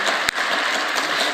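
A church congregation at a Friday all-night prayer service at a prayer retreat claps together, a dense, steady wash of applause filling the room, loud and close, with one sharp clap standing out.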